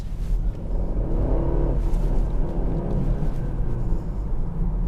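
A 2021 BMW 330e M Sport plug-in hybrid accelerates on damp roads, its engine a steady low rumble that swells gently and holds for several seconds, heard from inside the car with no talking.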